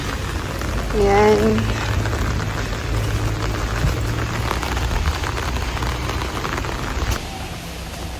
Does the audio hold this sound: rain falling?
yes